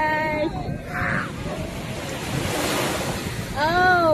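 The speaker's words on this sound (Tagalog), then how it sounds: "May barko po na tumaan, kaya ang lakas ng alon." Strong sea waves at a beach, churned up by a passing ship, rolling in as a loud continuous surf wash with heavy wind buffeting the microphone and brief voices over it.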